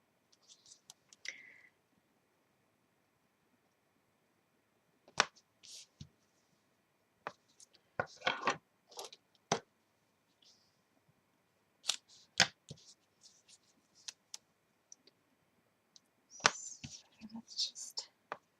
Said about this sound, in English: So I'm going to put some sticky tape on this